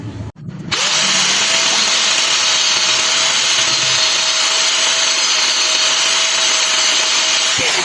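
An angle grinder cuts into a motorcycle headlight mount on a carbureted Honda BeAT. After a brief knock it spins up to a loud, steady, high whine that holds for about seven seconds, then winds down.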